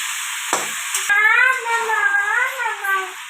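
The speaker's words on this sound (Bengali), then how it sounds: "তো দেখো এই যে এবার এরকমভাবে নাড়তে থাকবে।" Potato, cauliflower and fish curry being stirred in a pan, with a close scraping and sizzling that starts around the half-second mark and carries on steadily, while a voice hums or speaks softly over it.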